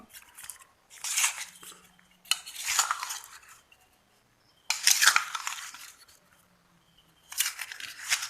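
Olive pickle is stirred and mixed in a pot, with bursts of scraping, clinking spoon-against-metal strokes that come in four separate rounds split by short pauses.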